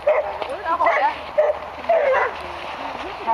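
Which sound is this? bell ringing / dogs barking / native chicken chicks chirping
dogs barking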